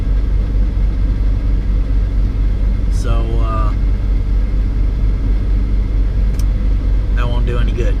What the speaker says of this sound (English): the only thing you hear on the original audio is the engine